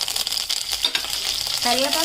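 Curry leaves dropped into hot oil for tempering chutney crackle and sizzle up close, with stirring clinks and short bursts, a voice briefly audible near the end.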